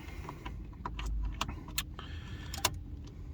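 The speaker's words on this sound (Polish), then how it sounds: "Także przekręcam kluczyk." Key turning and clicking in the ignition lock of an Opel Zafira Tourer during an ignition repair, a few sharp metallic clicks and jingles over a low engine-bay hum, close and fairly quiet.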